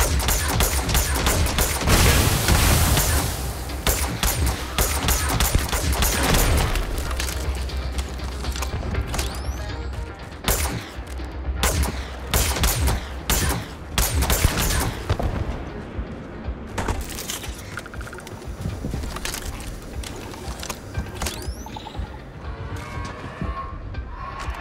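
Gunfire in the modded PC version of Starfield, a dense stream of sharp shots and bursts with clanking mechanical sounds, loud and continuous throughout, easing into sparser cracks toward the end.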